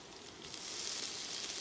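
Shiitake mushrooms, carrot and chili stir-fry in a little oil in a hot wok, a steady, close hiss of sizzling that swells slightly partway through, with no talk.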